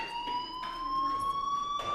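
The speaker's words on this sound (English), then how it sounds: "Hey, do you hear that fire alarm?" School fire alarm in the video game Life Is Strange Remastered, a continuous high electronic tone ringing steadily with pulsing bursts of noise, loud and unbroken, with no talk.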